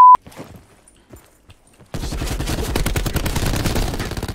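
Rapid bursts of in-game gunfire from an allied player in a multiplayer shooter start abruptly after a near-silent opening and continue as loud, dense automatic shots that fill the rest of the moment.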